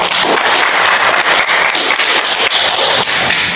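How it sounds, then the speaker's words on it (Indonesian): A burst of applause from a group, dense steady clapping that fills the whole stretch without pause, loud and close. "marilah kita tepuk tangan sekali lagi untuk kelompok 1"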